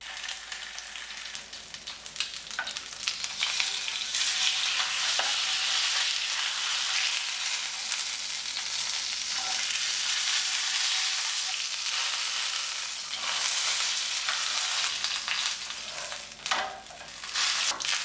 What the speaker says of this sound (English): starting with the fat side, we're going to brown this until it starts to have a light crisp